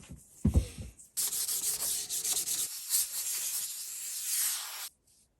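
Sandpaper rubs steadily over a wooden wand modelled on Sirius Black's, smoothing the finish between coats in a continuous close scratching that runs for about four seconds after a few light taps, then stops.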